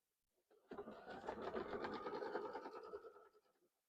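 A sewing machine quilting a cactus quilt starts up after a short pause and stitches steadily at a fast even rhythm, fairly quiet and close, then stops.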